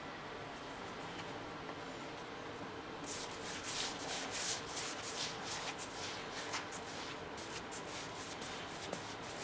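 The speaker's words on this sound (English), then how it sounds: "I am trying to work the paint into where that veneer met" Paintbrush working paint into the veneer seam of a piece of furniture, a soft close scrubbing and brushing that turns into quick repeated strokes partway through, with no voices.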